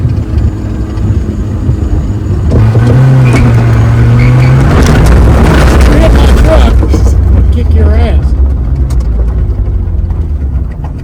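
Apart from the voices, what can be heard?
Toyota AE82 Corolla FX engine running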